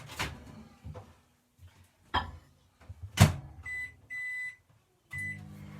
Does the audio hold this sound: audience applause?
no